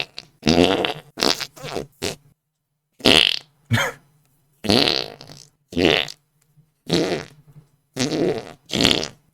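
Voice-imitated fart noises made one after another, about nine separate sputtering, buzzy bursts with brief gaps, close and loud with no other sound around them.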